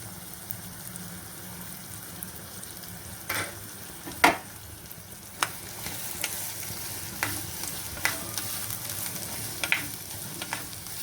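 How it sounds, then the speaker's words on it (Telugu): Chopped onions fry in a pan for a moong dal kachori filling, giving a steady, close sizzle with scattered sharp pops and stirring scrapes. No one speaks. "ఇవి కొద్దిగా బాగా ఫ్రై అయిన తర్వాత మిగతా ఇంగ్రీడియంట్స్ అన్నీ వేసుకుందాం."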